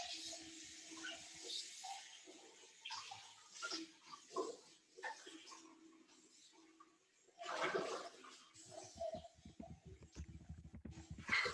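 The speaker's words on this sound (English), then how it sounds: "I'm going to give our little jar a rinse" Water running into and swirling around a small vanilla jar as it is rinsed, splashing and gurgling close by, rising and falling, with a louder rush toward the end.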